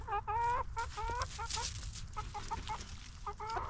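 A rooster clucks close by in a short run of throaty, repeated calls with brief pauses, fairly faint against a low background hum.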